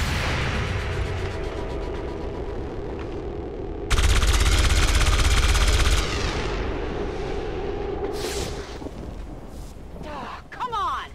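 Reaction fire shots in XCOM 2 War of the Chosen: a loud two-second burst of heavy gunfire stands out amid rumbling combat noise, followed by sharper scattered effects, with a voice talking over the surrounding game sound.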